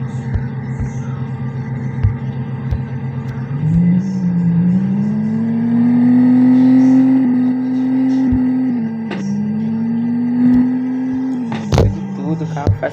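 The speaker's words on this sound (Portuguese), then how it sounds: "Escuta só o barulho desse carro, pra ver se o jeito dele é bonito." An Audi TT engine in a driving video game idles with a steady low hum and then revs up into a sustained, slowly wavering drone before dropping back, with a few sharp clicks along the way.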